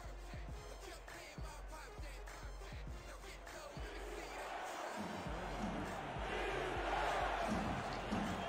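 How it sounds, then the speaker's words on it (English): A stadium crowd at an American football game in Tulsa chants and roars for defense, a dense rhythmic din swelling louder toward the end. "The crowd is calling out for defense here."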